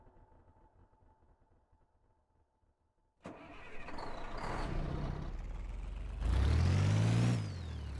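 Kodiak vehicle engine in Garry's Mod starts after a quiet hum, then revs loud and steady, climbing to a higher whining pitch near the end.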